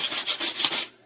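Rhythmic hand sanding of old varnish on a wooden snowshoe, about five quick back-and-forth rubbing strokes, close and scratchy, then stopping.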